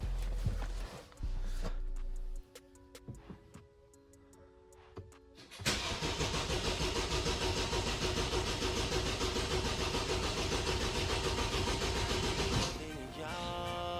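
A BMW engine cranks over to circulate oil after sitting a week without an oil pan, then runs loudly and steadily for several seconds before cutting off, with quieter clunks and handling noises beforehand.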